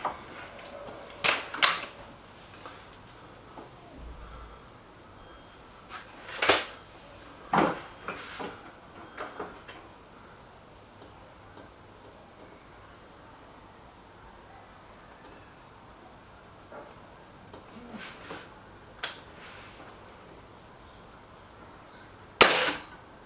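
A Remington Express XP air rifle fires .22 pellets at a target: a handful of sharp, short cracks spaced several seconds apart, fairly quiet against a hushed background.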